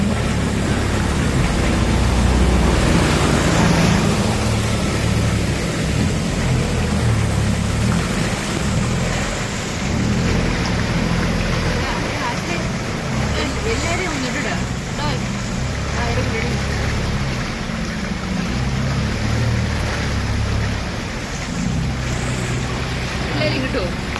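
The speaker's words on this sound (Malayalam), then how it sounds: "കണ്ടൽക്കാടിൽ കൂടി ബോട്ട് യാത്ര." A boat travels through the mangrove forest at Poovar, with a constant wash of engine rumble and water splashing close by throughout.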